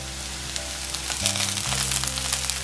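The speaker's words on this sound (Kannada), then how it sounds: "ಇವಾಗ ಈರುಳ್ಳಿ ಸಾಫ್ಟ್ ಆಗಬೇಕು, ಅಲ್ಲಿವರೆಗೂ ಫ್ರೈ ಮಾಡೋಣ" Onions with curry leaves frying in a pan, cooking for a mutton pepper fry, give a steady close sizzle with a low hum underneath and scattered crackles, and no one speaks.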